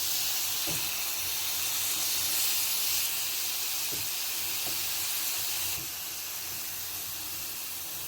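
Chicken tikka cooks in a pan on a stove over a low flame, giving a steady, fairly loud hiss and sizzle that runs unbroken throughout, with a few faint clicks and knocks and no talking.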